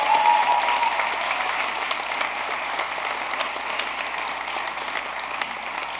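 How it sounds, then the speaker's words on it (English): An audience applauds steadily at a school honor society induction ceremony, a dense, continuous clapping that starts strong and tapers slightly. "Let's have a round of applause for the seal of biliteracy recipients."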